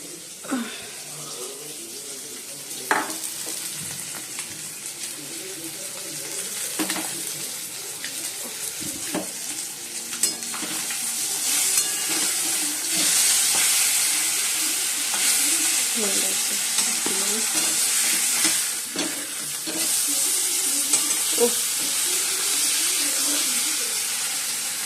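Fish fries in hot oil in a pan, a steady moderate sizzle broken by occasional stirring and scraping sounds throughout, with no one speaking.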